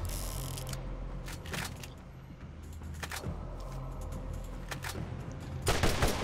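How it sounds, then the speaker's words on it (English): Bursts of assault gun fire from the video game Borderlands, sharp repeated shots crackling over a steady low game hum, with clusters of rapid reports spread through the stretch. "Assault gun."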